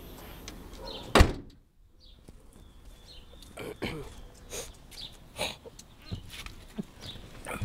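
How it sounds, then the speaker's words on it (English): Hood of an Audi car being shut, a single sharp slam early on, followed by quieter shuffling and handling noises around the vehicle outdoors. "Close the hood now."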